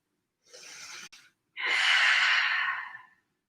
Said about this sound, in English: Deep breath in to recover.